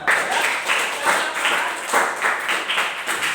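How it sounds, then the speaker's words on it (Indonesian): A class of students claps together in steady, rapid applause for a few seconds during a forward-roll gymnastics lesson, moderately loud and close. "Oke, tepuk tangan."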